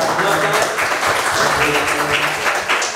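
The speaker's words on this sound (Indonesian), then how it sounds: "Tepuk tangan dong." An audience at a fan talk show in Bandung about Kamen Rider Geats claps at the close of the session, moderate, fairly even applause with some voices mixed in underneath.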